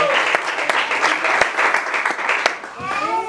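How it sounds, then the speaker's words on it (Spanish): A church congregation applauding, a sustained wash of many hands with a few sharper individual claps standing out, before a voice starts speaking at the very end. "Dale un aplauso al Señor en esta hora"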